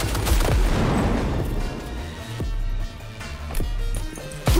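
Heavy gunfire from the video game Cyberpunk 2077: Phantom Liberty, with dense bursts of rapid shots and booming impacts at close range, a few brief pauses between volleys, and no talk over it.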